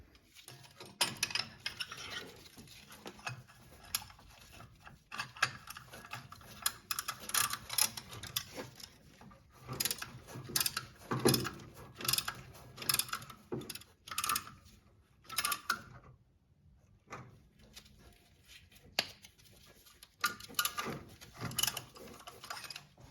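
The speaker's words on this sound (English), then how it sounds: "Now we can compress the caliper pistons with a tool like this" Brake caliper pistons pushed back with a compression tool on a 2007-2021 Toyota Tundra front brake, heard as quiet irregular metallic clicks, ratcheting and scraping close by, with brief gaps and no talking.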